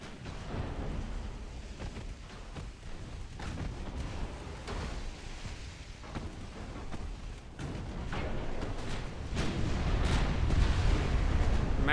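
Naval gunfire in a warship video game, with heavy booming salvos and shell impacts on battleships and cruisers rumbling continuously, dense and building louder toward the end.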